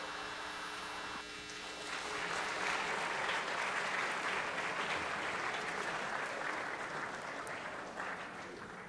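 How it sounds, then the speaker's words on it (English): A room of people applauding at a local public meeting, a broad wash of clapping that swells after the first second and holds steady, with a low electrical hum underneath. "Round of applause, too, for Mr. Ford, who seems to bail me out often."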